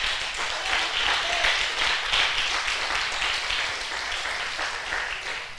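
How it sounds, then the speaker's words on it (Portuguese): A church congregation stands and applauds together, a dense, steady wash of many hands clapping that fills the room and slowly eases off. "Vamos dar uma linda salva de palmas para o Senhor."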